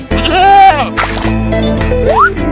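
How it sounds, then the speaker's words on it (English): A domestic goat bleats loudly and close up in a few wavering, drawn-out calls, with a short break between them. "The goat or domestic goat is a domesticated species."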